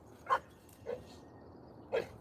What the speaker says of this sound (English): Now she's starting to bark a little bit.